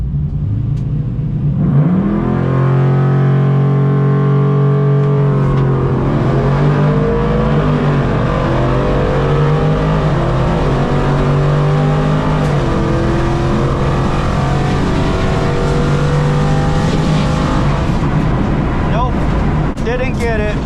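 A drag race car in an 11.0 index class run at Texas Motorplex launches hard with a loud, close engine roar, then keeps accelerating through rising gear pulls over the full run. The engine sounds from inside the car, with a voice heard over it.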